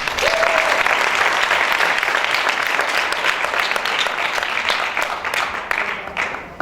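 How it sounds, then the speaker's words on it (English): A conference keynote audience claps steadily in sustained applause that holds for several seconds before tapering off. "Please give him a round of applause."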